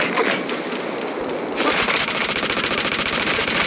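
Rapid bursts of video game gunfire rattle in quick succession, getting louder and denser after a brief quieter opening, with no voices.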